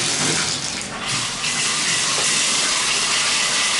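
A tap opened at full pressure gushes loudly into a draining basin, a strong continuous rush of running water close by, with no speech.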